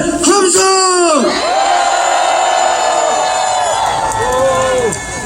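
A political rally crowd in Cheongju roars and cheers, with loud shouts and drawn-out calls rising over a steady mass of voices.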